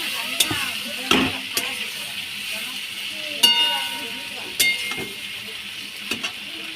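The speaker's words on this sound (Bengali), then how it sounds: "এবার আস্তে করে এটাকে আমি ভাজতে থাকবো।" Whole cardamom, cinnamon and black peppercorns frying gently in a pan, a soft steady sizzle broken by several sharp clinks and scrapes of a spatula against the metal.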